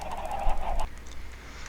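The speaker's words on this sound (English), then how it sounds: "So many chickens." Chickens in the video game Minecraft give a brief burst of clucking, a fluttering mid-pitched squawk lasting under a second, then fading into quiet background.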